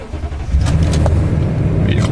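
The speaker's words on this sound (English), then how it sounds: "Looking for a lag in movement as I start the vehicle up and put it in gear." A 2007 Toyota Tundra pickup engine turns over and catches, settling into a low, steady idle rumble close by, with a few faint clicks over it.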